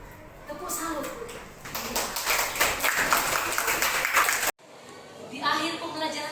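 A classroom of children gives a rhythmic salute clap, a quick burst of sharp claps in pattern under a few voices, cutting off and then resuming briefly with talk.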